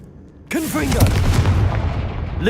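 Confringo blasting spell cast in Hogwarts Legacy, a sudden loud boom with a whooshing fiery burst and rumbling tail, close and alone after brief quiet, with a short voiced exclamation at the onset.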